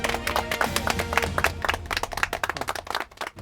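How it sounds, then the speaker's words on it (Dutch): An audience at a Limburg ribbon award ceremony breaks into lively, dense applause, holding close and strong for several seconds before thinning out at the end. "Applaus dames en heren."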